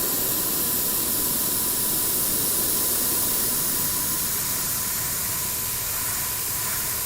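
An airbrush sprays paint with a steady, close, soft hiss that holds even throughout, with no talking.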